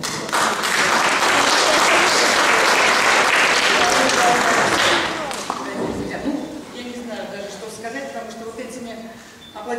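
Concert audience at a Mussorgsky Pictures at an Exhibition performance applauds loudly and densely for about five seconds, then the clapping thins and fades under a speaking voice.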